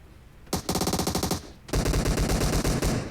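Automatic gunfire in a video game rattles out in two rapid, loud bursts, a short one followed by a longer, heavier stream of shots.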